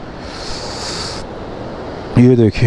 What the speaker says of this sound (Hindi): कितना तंग नाला है जिसमें से पानी आ रहा है